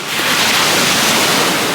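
Sea waves wash up on a beach at night in a dense, loud, broadband roar of surf. It builds quickly and then holds steady for the short stretch, with no voices.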